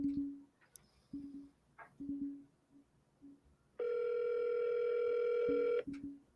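A telephone rings over the line during a prank call: short repeated ringback pulses, then a long sustained tone, then more pulses, heard close and clear through a phone connection with no talking.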